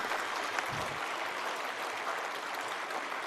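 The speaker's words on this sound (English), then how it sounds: "I want to see everybody clap." An audience claps at a school annual day in 2022, a fairly distant, even wash of many hands that continues steadily throughout.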